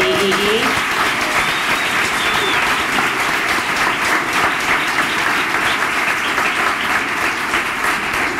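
Dense, steady applause fills an awards ceremony as an audience honours a recognised staff team, continuous and fairly loud throughout with no pauses.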